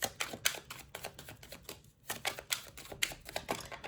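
A deck of tarot cards is cut and handled, giving quiet, close, rapid papery clicks and riffles with a brief pause midway.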